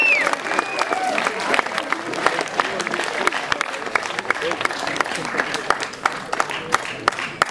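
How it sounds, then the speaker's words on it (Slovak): Audience clapping steadily at a film festival award ceremony for a category winner, with dense sustained applause and a few voices faintly mixed in throughout. "Zatlieskajme teda víťazovi v rámci tejto kategórie, Martinovi."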